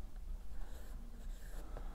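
A pencil shades tone across a vase sketch on paper, giving a steady, soft scratchy rasp of continuous strokes close to the listener.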